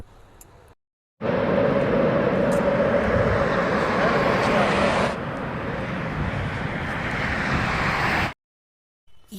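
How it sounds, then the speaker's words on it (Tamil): An airplane landing, heard as a loud, steady roar that starts abruptly, eases to a slightly lower level midway and then cuts off, with short quiet gaps at either end. "ஃப்ளைட்டு இறங்குற சவுண்டு கேட்டுச்சு."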